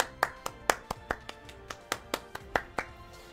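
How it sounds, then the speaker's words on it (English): A single person's hand clapping, about a dozen sharp separate claps in an uneven rhythm, close and fairly quiet with no talk. "give Bandai a quick little round of applause"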